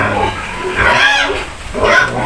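A black pig in a farm pen gives loud, close grunts and squeals in two drawn-out bursts, noisy and restless.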